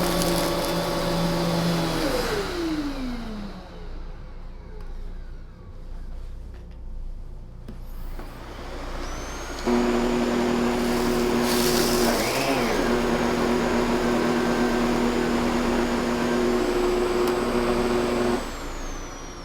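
A Kenmore 600 series Pop N Go and a Miele C1 canister vacuum cleaner run during a pickup test, making loud steady motor whines with a drop in pitch as one shuts off, a quieter stretch, then a strong whining roar again.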